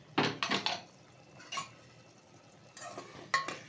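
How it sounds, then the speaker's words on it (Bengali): A metal pot lid is lifted off cooking mutton biryani, followed by a few clanking strokes of a spoon against the pot, quiet and close with short pauses between the knocks. "ঢাকনাটা তুলে দিচ্ছি"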